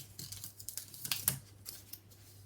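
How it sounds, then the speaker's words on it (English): Scissors trimming excess cover material for a hardback book, a faint, close series of quick snips and rustles at low volume with no talking. "I've got just a bit too much, so I'm going to chop a bit off."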